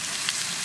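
Sausage frying in a pan with no added butter, a steady close hiss and sizzle of fat heard alone in a brief burst.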